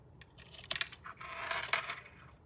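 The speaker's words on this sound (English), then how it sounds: "Let me get my ribbon snips and snip it." Ribbon snips cutting a length of ribbon during card making, a few crisp close metallic snips and clicks over a couple of seconds, no voices.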